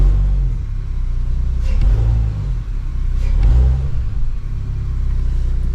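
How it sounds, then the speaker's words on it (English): A car engine, with a P11A700 fault code under check, idles with a deep close rumble and is revved gently twice, the pitch rising and falling in two soft swells; no one speaks. "So I'm gonna just rev it a little just to see what happens."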